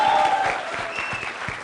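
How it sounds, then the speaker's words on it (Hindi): Studio audience applause on a Hindi cricket discussion show, fairly loud at first and then thinning, with a faint tone running underneath and no speech. "जोरदार तालियां गौतम गंभीर के लिए।"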